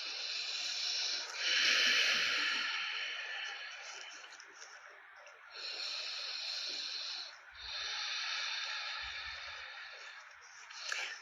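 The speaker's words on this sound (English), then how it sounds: "Just breathe, breathe, breathe, breathe." Slow, deep breaths during a yoga session, long airy hissing inhales and exhales in a few drawn-out cycles, quiet and close.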